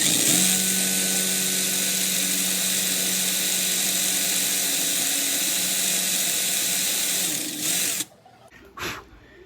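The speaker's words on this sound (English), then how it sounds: "this should work way better for drilling lead holes and drilling eyeball holes" A drill bit bores into a lead fishing lure, a steady high whining drill run held for about eight seconds, then it cuts out to near quiet with one brief later burst.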